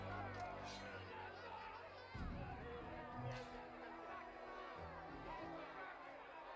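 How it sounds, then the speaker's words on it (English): Angry crowd murmur rises in a Pathfinder: Kingmaker game scene, a dense, steady babble of many indistinct voices that swells slightly partway through and keeps going throughout. "Angry murmur runs through the crowd."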